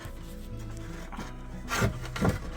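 Cedar tongue-and-groove trim piece pushed and rubbed into place, with two louder wooden scraping bursts near the end over a low background hum.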